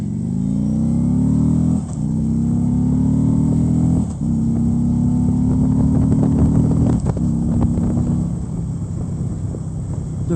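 Harley-Davidson Street Glide Special motorcycle engine, 2014, revving hard through gear changes while riding, with loud rising engine pitch broken by brief dips at each shift under steady wind rush.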